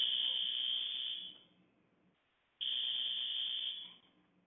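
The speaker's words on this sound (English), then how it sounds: "For those of you who just heard a loud alarm, it sounds like we have just a regular test alarm here at the Jubilee building." A building's test fire alarm blares in two long loud electronic bursts with a brief gap between them, no talking.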